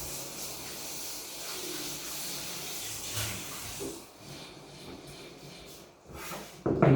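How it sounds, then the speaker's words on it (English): Potatoes and onion frying in a pan for a Spanish omelette, tortilla de patatas, give a steady close sizzling hiss that fades somewhat midway, with a sharp louder clatter right at the end. "So at the moment we have the potatoes cooking with the onion."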